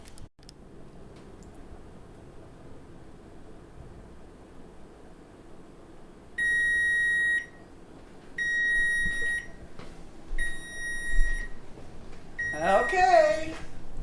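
A kitchen timer sounds three long electronic beeps with short gaps between them, fairly loud over quiet room noise during jam making, followed by some clatter.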